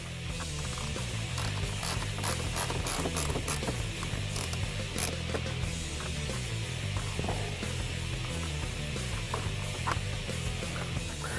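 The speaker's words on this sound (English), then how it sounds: "remove these 2 bolts that are at the top of your bumper cover" A ratchet clicks in rapid bursts as it backs out the bolts along the top of a Ford Focus ST bumper cover, close and moderately loud, with no talking.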